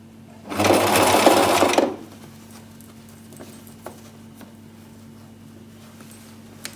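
A sewing machine runs in one loud, steady burst of about a second and a half while stitching a weft track onto a wig cap, then stops, leaving a quiet room with a few faint clicks.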